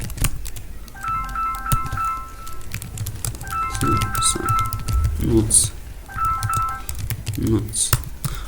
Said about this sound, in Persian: فعلا ما اینجا هر چیز تایپ کردن میتونیم